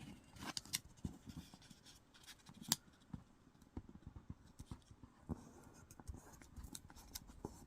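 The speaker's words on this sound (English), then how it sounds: "one of these corner points to this point right here, just basically folding this square in half" Paper square being folded in half for an origami cat: soft, close crinkles, scrapes and sharp creasing taps in an irregular rhythm, fairly quiet against a faint room background.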